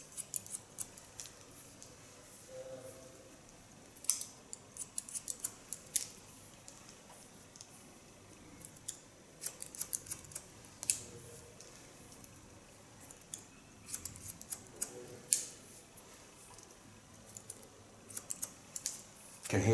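Scissors cutting a woman's hair during a salon haircut, with rapid, soft snipping clicks coming in irregular bursts at close range over a low background hush.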